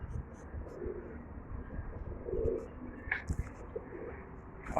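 Pigeons coo faintly in a quiet setting, with a few soft low calls rising briefly over background murmur and light rustling.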